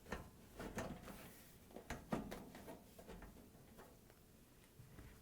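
A cooktop on a Bosch/Thermador/Gaggenau range is lowered and slid back into place, giving a few soft scattered knocks and scrapes at low level, with no talking.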